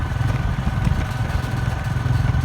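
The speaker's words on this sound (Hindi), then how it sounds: "बस बाइक के ऊपर जा रहा हूँ सफ़र करता हुआ," Motorcycle ridden along a broken, rough road, its engine a steady close, loud chugging drone with rattling clatter running throughout.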